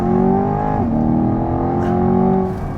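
A 2023 Chevrolet Corvette Stingray Convertible engine roars loud and close as it accelerates, a steady, strong drone with a brief dip in pitch partway through, and no voices.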